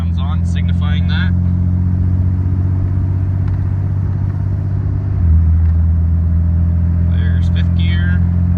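Truck with a 68RFE automatic transmission making a normal acceleration, a steady low engine drone that shifts down in pitch partway through as the gear changes, with someone talking over it near the start and end.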